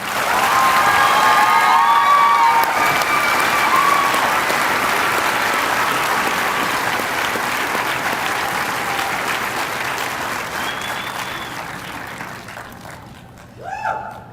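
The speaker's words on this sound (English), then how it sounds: "let's give all of them one last round of applause" A large audience at a corrections academy graduation ceremony claps loudly and steadily with scattered cheers, the applause slowly thinning over about thirteen seconds before a brief voice near the end.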